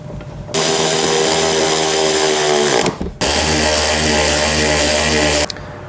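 Power tool driving the two seat screws back in after reinstalling the driver seat of a Chevy Colorado, two loud, steady whirring bursts close up with a short pause between them, no talking.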